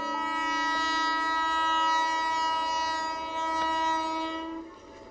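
A train sounds a long, loud, steady multi-tone horn as it passes nearby, with a low rumble underneath before the horn tails off near the end.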